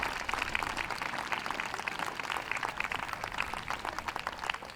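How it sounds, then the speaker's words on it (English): A crowd claps steadily for the finalists leaving the ring at an indoor hound show, a dense, even patter that is fairly faint and distant and goes on without a break. "Come on, ladies and gentlemen, give them a clap as they leave the ring."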